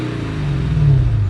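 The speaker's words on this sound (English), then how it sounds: "the exhaust is far too quiet" A Lexus IS F engine revs briefly close by, its low, throaty exhaust rumble rising slightly in pitch before easing off.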